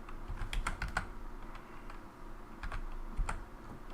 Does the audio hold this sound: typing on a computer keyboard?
yes